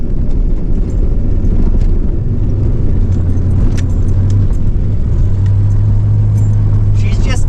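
A 1986 Chevy Caprice Super Stepside pickup with a 305 TBI engine cruises along a road in Florida, its steady, loud interior drone and low rumble continuing throughout while someone talks over it.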